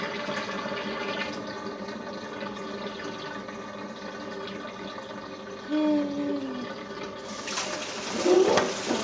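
Water runs steadily into a sink to rinse particles from its sides during fibre processing, a continuous hissing stream with a slight surge near the end.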